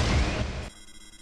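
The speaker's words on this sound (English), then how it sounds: "Looks like he pulled the phazon suit off, and now he's exploding." Metroid Prime, the final boss of the Metroid Prime video game, explodes in a loud, dense blast that holds for about half a second and then cuts off into a faint tail.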